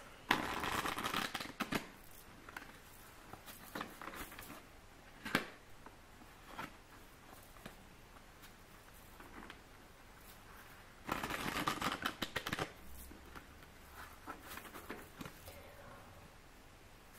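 Tarot cards are shuffled in hand during a reading, with two short bursts of riffling and scattered soft taps and flicks between them, close and quiet with no talking.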